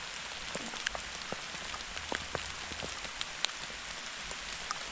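Rain shower pattering steadily on the woodland floor and leaves, with scattered close drips and drops standing out over a continuous soft hiss.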